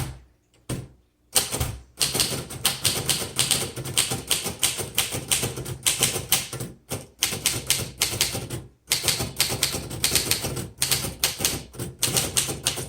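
Keys on a 1934 Royal Model O manual typewriter clatter in rapid, close-up bursts of sharp clicks, broken by a few short pauses and carriage sounds.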